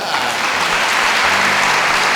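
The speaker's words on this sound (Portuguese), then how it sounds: "Salve de palmas para elas aqui" Church congregation applauding, a dense, steady wash of clapping that fills the whole moment at close range, with faint voices mixed in beneath it.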